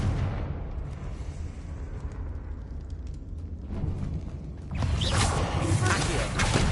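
A Confringo fire spell in Hogwarts Legacy erupts as a sudden broad blast late on, leaving a loud sustained roaring crackle after a stretch of quieter rumbling ambience.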